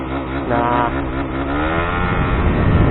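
A Suzuki GSX R150 motorcycle engine with launch control engaged, Juken 5 Racing Turbo exhaust, revs and holds at high rpm: a loud, close, rising then sustained buzzing roar that fills the whole clip.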